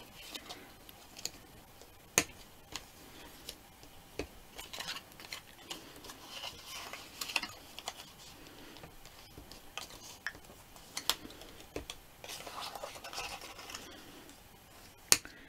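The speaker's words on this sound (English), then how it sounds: "we need to fold along our score lines, and we'll burnish them with the bone folder" Paper being folded along score lines and burnished with a bone folder: quiet scattered crinkles, taps and brief rubbing strokes, with soft sharper clicks now and then.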